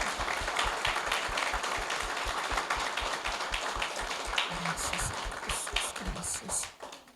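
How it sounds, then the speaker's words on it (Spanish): A church congregation claps together in steady, dense applause that holds for several seconds, fairly loud and close, with a few scattered voices near the end. "démosle un aplauso al Señor"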